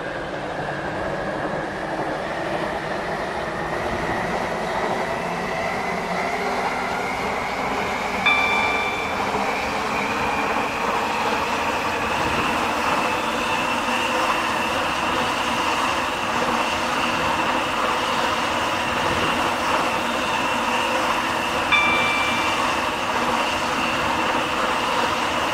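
A class 720 electric train in the Roblox game Stepford County Railway runs steadily, its motor whine rising gradually in pitch over a continuous rolling rumble, with two brief chime-like tones.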